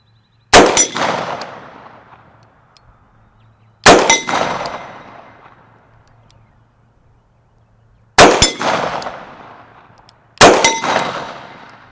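Four sharp shots from a Smith & Wesson Performance Center 629 revolver with a reflex sight, each ringing off a steel target with a bright metallic clang that decays slowly, spaced a few seconds apart with the last two closer together, loud and close.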